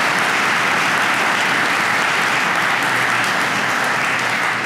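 An audience applauds at a commissioner's speech honoring a school agricultural club's restoration work, a dense, continuous clapping that stays loud and even throughout.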